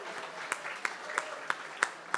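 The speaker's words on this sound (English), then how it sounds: "Would you give those people a huge round of applause?" An audience at an art auction applauds sponsors with a soft, steady patter, and louder claps stand out about three times a second across two seconds, with faint talk underneath.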